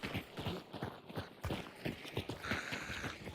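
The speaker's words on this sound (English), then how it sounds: "I heard a horse." Hooves clip-clop in a video game, a quick run of soft, fairly distant hoofbeats in an uneven rhythm, with faint background sounds throughout.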